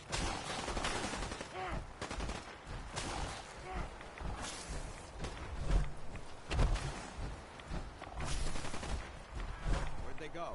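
Gunfire from the Fallout 4 video game, repeated bursts and shots over a dense, busy game soundscape, fairly loud throughout with occasional heavier thumps.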